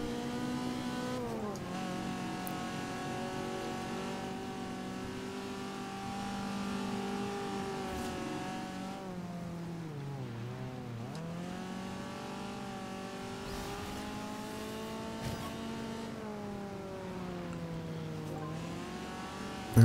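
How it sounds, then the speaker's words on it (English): Nissan Skyline 2000 GTR racing in Forza Horizon 2, engine droning steadily at high revs, rising and dipping through gear changes and corners, loud and continuous with brief tire noise. "The Skyline 2000 GTR."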